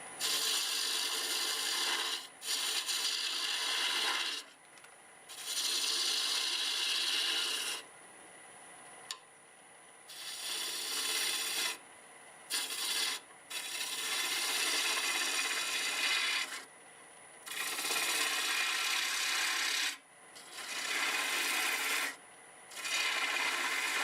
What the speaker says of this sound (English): Switch to a 1/2 inch bowl gouge now.